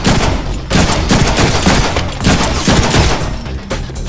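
Continuous gunfire from the Deadpool video game, a dense, loud barrage of rapid shots with overlapping bursts filling the whole stretch, no pauses.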